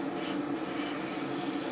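A steady, continuous hiss of a spray gun applying primer to a 1:144 scale HP Victor K.2 model kit in a spray booth, close by, with a constant hum underneath and no talking.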